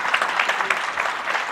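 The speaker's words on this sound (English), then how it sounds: "Please give him a round of applause" Lecture audience in Islamabad applauds a guest speaker being introduced, a thick, even spread of many hands clapping together, sustained and moderately loud across the whole moment.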